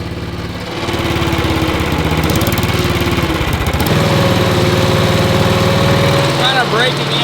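A small go-kart engine cranks and fires up, then runs at a loud, steady buzzing idle with slight rev changes, close by, with brief voices near the end.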